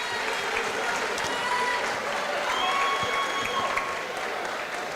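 Applause from the crowd at a high school basketball game, Jenkins Cavaliers at Knott County Central Patriots, a steady wash of clapping and crowd noise lasting the whole stretch with a faint whistle-like tone over it.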